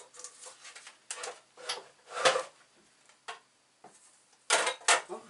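A card runs through a Big Shot die-cutting machine: a series of short, close grinding and rubbing bursts as the handle is cranked, separated by brief quiet pauses, with no talking.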